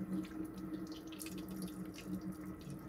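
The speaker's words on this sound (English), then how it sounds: "what he's doing is making sure the water's going all around his feet" Tap water runs steadily over a person's feet during washing, a continuous close rush with small splashes and shifts in the flow.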